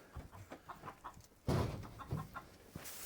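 Chickens cluck in a steady, scattered run of short calls close by in a homestead coop, with a louder burst of clucking and rustling partway through.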